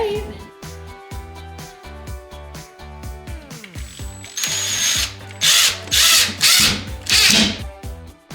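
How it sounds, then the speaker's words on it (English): A power drill drives screws into drywall in a series of short, loud whirring bursts with clicking clutch sounds, growing louder and closer toward the end. "Once the drywall was all screwed in"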